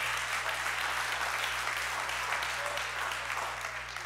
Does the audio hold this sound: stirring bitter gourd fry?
no